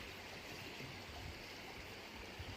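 The Virgin River in Zion National Park flowing over its bed, a steady, soft rushing of water heard at a distance, faint and unbroken throughout.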